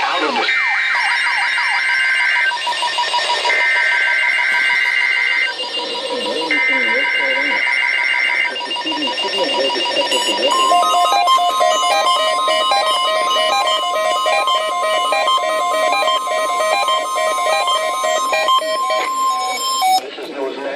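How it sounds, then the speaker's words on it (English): A NOAA weather radio emergency alert system test plays: loud, repeated two-tone alert bursts, then a long steady attention tone with a data-like warble laid over it, sounding like a radio broadcast. "The preceding signal was a test of weather radio station WXL 50 public warning system."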